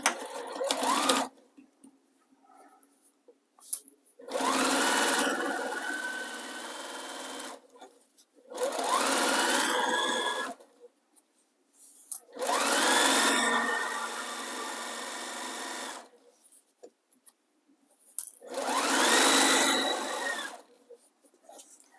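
A sewing machine stitches a fabric seam in four separate bursts of fast whirring, each run lasting a few seconds with quiet pauses between.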